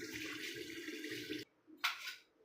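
Water pours into a cooking pot for rice, three and a half tumblers of it. The pour runs as a steady stream, cuts off, then comes back as a short second splash.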